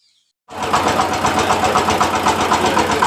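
After a moment of silence a remote-controlled tractor engine starts up and runs steadily, a loud close chugging with a regular rapid knock.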